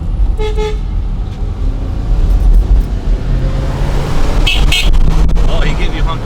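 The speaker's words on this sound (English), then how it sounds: "Oh, he gave you honk back." A car horn sounds in short toots amid roadway traffic in Mexico, with engines rumbling nearby and people talking over the noise inside a moving car.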